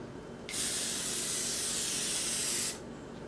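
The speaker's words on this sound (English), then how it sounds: "spray this with one really light coat" A light coat of spray paint going onto trim on a Mercedes E350, heard as one steady close hiss lasting about two seconds, with quiet surroundings before and after.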